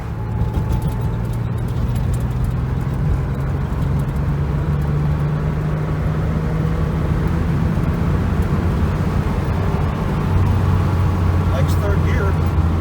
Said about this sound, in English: first drive in this crazy Porsche